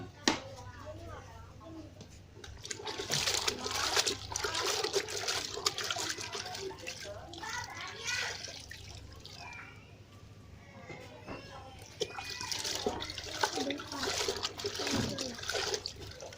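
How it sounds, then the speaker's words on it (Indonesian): A chamois cloth (kanebo) being washed in water makes splashing and sloshing sounds, with intermittent trickles, under ongoing talk. "Nah, kanebo kita cuci."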